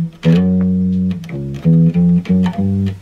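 Bass guitar playing a short riff from a song, a series of loud, clear, deep plucked notes in a choppy rhythm, with no voice over them.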